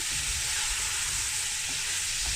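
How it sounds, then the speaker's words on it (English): Lamb curry meat and spices sizzle steadily in a hot pan while being stirred, a constant close frying hiss with soft scraping, no voices. "Literally just stirring it up and changing the colour."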